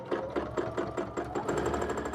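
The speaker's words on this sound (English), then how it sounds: "As I'm sewing, I'm trying to maintain a consistent speed between the speed of the machine and my hands." A sewing machine doing free-motion stippling on a quilt, its needle hammering in a fast, steady rhythmic patter, close and continuous.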